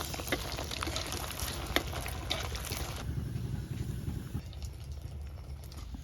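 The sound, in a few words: semai laddu dropped into hot oil, frying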